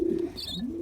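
A young pigeon being handled gives a brief, close, low cooing call lasting under a second, with nobody speaking.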